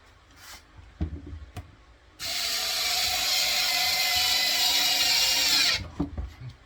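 A battery-powered drill drives a screw on a bandsaw table and fence project, a steady whirring burst of about three and a half seconds between faint knocks and handling clicks.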